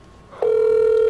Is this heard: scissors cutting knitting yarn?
no